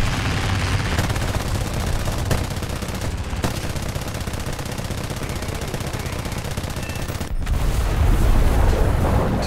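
Sustained rapid machine-gun fire from aircraft rear guns in War Thunder air combat, a dense, loud, continuous rattle over engine drone, with a brief break before swelling again.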